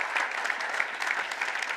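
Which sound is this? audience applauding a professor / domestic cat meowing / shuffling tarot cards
audience applauding a professor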